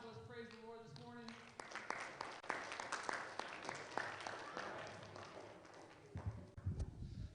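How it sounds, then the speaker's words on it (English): Children clapping together during an elementary school chapel gathering, a busy patter of uneven claps with voices talking and calling over it, fading toward the end as speech takes over. "let's go ahead and clap"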